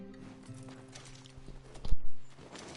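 Horse hooves clop along at a slow walk in Red Dead Redemption 2, a few soft steps, then a louder thud near the end.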